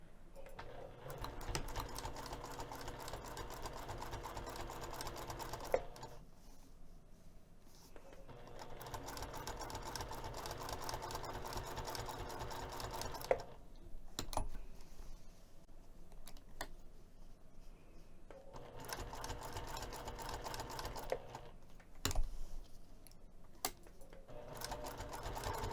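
Sewing machine stitching bag hardware on a messenger bag at a 3 mm stitch length: three long runs of rapid, even needle chatter separated by pauses with clicks and handling noise, close and clear.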